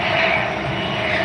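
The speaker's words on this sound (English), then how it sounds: "Air Gold Coast, Zulu Delta Mike, Cessna Citation, touching down." A Cessna Citation business jet touching down at the Gold Coast airport, its engine roar heard as a steady, fairly distant rumble with a brighter hiss.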